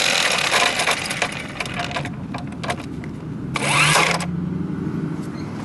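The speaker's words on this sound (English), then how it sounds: "on the other side you're going to use a impact wrench" An impact wrench works the front wheel nut of a scooter, giving loud, close bursts of harsh rattling and a short whirring burst near the end, with a steady mechanical drone underneath.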